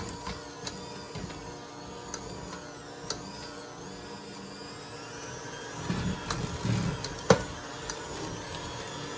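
A hand mixer drones steadily while blending dark chocolate cake batter, a low continuous whir that grows busier and louder toward the end with a brief clatter.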